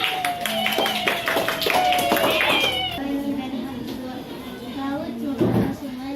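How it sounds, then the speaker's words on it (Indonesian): A classroom of students claps for a student group during a lesson, a quick burst of scattered hand claps over the first few seconds, mixed with children's voices and chatter that carry on after the clapping fades. "kita berikan tepuk tangan"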